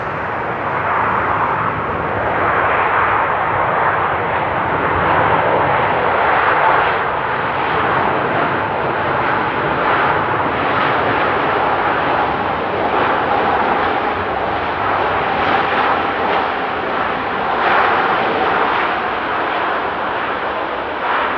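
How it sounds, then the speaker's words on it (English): Airliner landing in the rain at Amsterdam Airport, heard as one loud, continuous roar of engines and reverse thrust. The broad rumble holds steady throughout with no pauses. "Rudder action, touchdown, reverse time."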